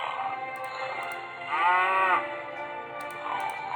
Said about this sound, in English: Okay, cow.